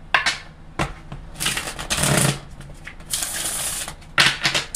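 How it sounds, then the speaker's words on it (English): Tarot cards are shuffled by hand in quick riffling bursts, each lasting about a second, with brief pauses and taps between them and no talking. "One more shuffle."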